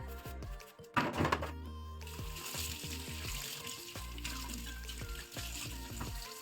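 Water running and splashing while a new stone mortar and metal pots are rinsed, with clinks and knocks of the vessels, a brief louder splash early on, and a steady trickle after.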